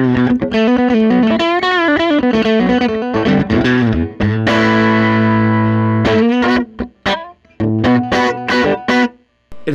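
Teye La Llama three-pickup electric guitar with its third pickup engaged, giving a strange self-feeding, distorted and modulated tone: loud chords and notes, a sustained swelling chord in the middle, then choppy strummed bursts, with no talking.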